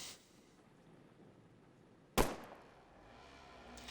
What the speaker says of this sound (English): Wait for that gunshot to go off.